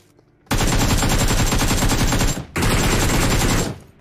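Sustained automatic gunfire from a shooter video game rattles loud and close in two long bursts, the first about two seconds long, then a brief gap before a second shorter burst.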